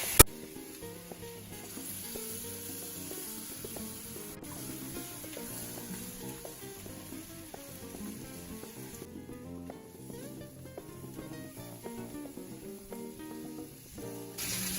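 Onions, ginger, curry paste and garlic frying in a pan give a steady quiet sizzle throughout, with faint stirring scrapes and an initial clack, under soft background music.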